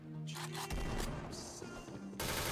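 Rapid video game gunfire ringing out in quick bursts, loud and dense with overlapping shots and impacts during a run of headshots, with no talk over it.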